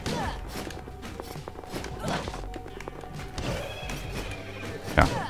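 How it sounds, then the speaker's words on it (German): Horse hooves trot overhead in the video game Rogue Legacy, a busy patter of clip-clop beats mixed into game music and effects, with a louder thump near the end. "Ich höre oben das Getrappel vom Pferd."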